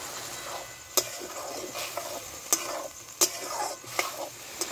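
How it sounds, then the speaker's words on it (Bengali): Chicken filling with turmeric, salt and soy sauce cooking in a pan, a soft sizzle broken by several sharp scrapes and clacks of a spoon being stirred through it; quiet, no talking. "নেড়ে চেড়ে সেদ্ধ করব।"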